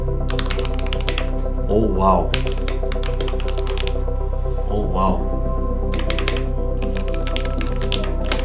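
Typing on a Keychron K8 Pro mechanical keyboard: bursts of rapid close key clicks separated by brief pauses, with a voice exclaiming softly twice over a steady background hum.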